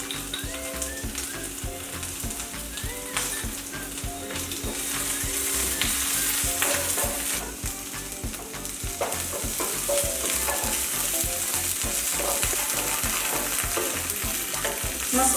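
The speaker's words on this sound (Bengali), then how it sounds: "এবার আমি আরেকটা ফ্রাইং প্যানে আমি এই সবজিগুলো ফ্রাই করব" Vegetables sizzle in oil in a frying pan for a paneer shashlik sizzler, a loud, steady crackle broken by regular rhythmic scrapes of stirring.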